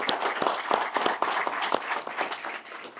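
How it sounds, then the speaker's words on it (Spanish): Church congregation applauding during Mass, a dense run of hand claps that gradually softens toward the end. "Vamos a darle un fuerte aplauso al Señor Todopoderoso."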